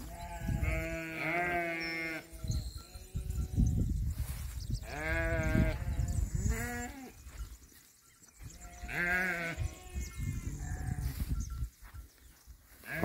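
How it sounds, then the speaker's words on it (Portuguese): Sheep, with goats also present, moving into a grass pasture, bleating repeatedly and loudly up close, several overlapping calls rising and falling in waves over steady outdoor background noise. "As ovelhas entrando na pastagem de capim."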